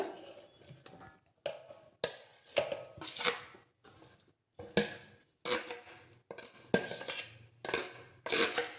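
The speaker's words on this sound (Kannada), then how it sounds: "ಕ್ಯಾರೆಟ್ ತುರಿ, ಸೌತೆಕಾಯಿ ತುರಿ, ಕೊತ್ತಂಬರಿ, ಈರುಳ್ಳಿ, ಹಸಿಮೆಣಸಿನ್ಕಾಯಿ, ಟೊಮೆಟೊ ಎಲ್ಲವನ್ನು ಮಿಕ್ಸ್ ಮಾಡ್ಕೊಳ್ಳೋಣ" Raw sprouted mung bean salad with grated carrot and cucumber, coriander, onion, green chilli and tomato is mixed in a bowl, giving a quiet, close series of short, irregular spoon scrapes and clinks with brief pauses between strokes.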